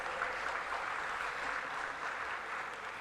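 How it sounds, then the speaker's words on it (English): Audience applause at a World Hindu Congress conference plenary session, dense and even clapping from a large crowd, heard at moderate distance and sustained without a break. "Please welcome him with a round of applause."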